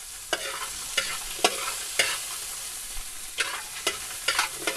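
River-fish curry ingredients sautéing in a pan: a steady oil sizzle broken by about nine sharp, evenly spaced stirring scrapes, close and clear, with no voices.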